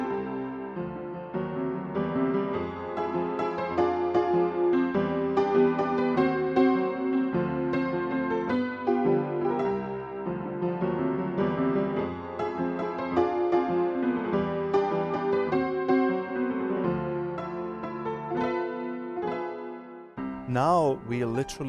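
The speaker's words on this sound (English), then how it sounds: "Now we have asked our piano tuner to detune our upright piano in the style of an honky-tonk" Detuned upright piano with a honky-tonk character, played as a Dexibell VIVO H7 digital piano voice, sounding as a continuous lively chordal passage with a sharp change of texture in the final second; no talking.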